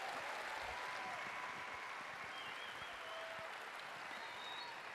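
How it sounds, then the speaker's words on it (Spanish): Faint, distant applause from a conference audience, an even, continuous wash of many hands clapping without pauses for the full five seconds. "Dense un aplauso, que lo han hecho muy bien."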